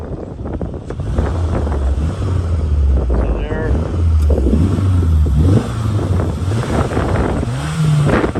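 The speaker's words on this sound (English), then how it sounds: "I want to try to rev it up a little bit so you can hear the engine at higher RPMs" A 2009 Subaru Impreza 2.5i wagon with a 5-speed manual revs its engine and exhaust, the drone climbing and falling in steady pitch sweeps beneath ongoing wind-buffeted talk.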